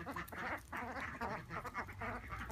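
Ducks quack repeatedly in a backyard flock kept alongside chickens, a busy overlapping chorus of nasal honks and calls at close range, faint in overall level.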